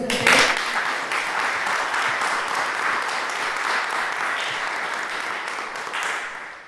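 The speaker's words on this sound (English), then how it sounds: "we can give PE a round of applause." Sustained audience applause fills a presentation hall, a dense steady wash of many hands clapping at full strength from start to finish before tapering slightly at the end.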